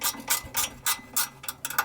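Ratcheting wrench clicks in quick bursts while burnpot bolts are tightened on a Harman P68 pellet stove, about six close, even pulses of metallic clicking with short pauses between.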